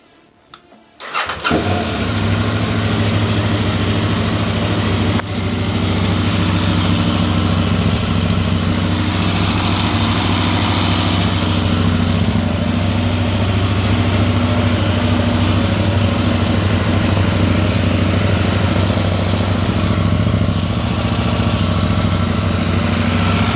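A KTM 890 Adventure motorcycle fitted with a new aftermarket exhaust starts up after a brief cranking, then settles into a steady, loud, close idle that holds without a break for over twenty seconds, with no talking.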